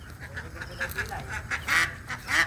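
Domestic ducks on a farm quack in a busy, overlapping flock, with several nearby calls rising in loudness and a few louder bursts toward the end.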